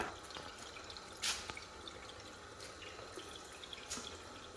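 Water filling and dripping through charcoal water filters: faint, steady trickling with a few sharp, isolated drips and splashes scattered across a quiet background, with no talking.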